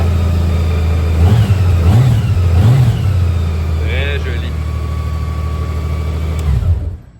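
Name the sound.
motorcycle engine starting and revving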